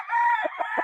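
A white gamefowl rooster crows close by at a gamefarm, one short, clear cock-a-doodle-doo ending in a few rough broken notes.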